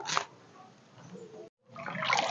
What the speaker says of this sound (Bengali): লাউ শাকগুলো কিন্তু বেশ ভালো করে ধুয়ে নিতে হবে জল পাল্টে পাল্টে